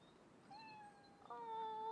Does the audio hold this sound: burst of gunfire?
no